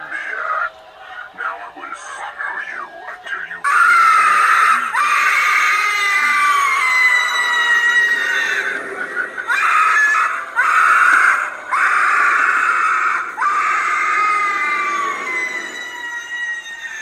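Twitching banshee prop in a home haunted house shrieks with loud, wailing, warbling screams that repeat in long bursts for most of the stretch, close and dominant after a quieter start with faint background noise.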